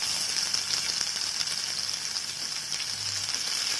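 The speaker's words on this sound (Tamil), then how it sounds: "வெங்காயம் கொஞ்சம் பொன்னிறமாகட்டும், அது வரைக்கும் நல்லா வதக்கி விடலாம்." Sliced onion sautéing in a pan, a soft steady sizzle and hiss with faint stirring scrapes, close but fairly quiet.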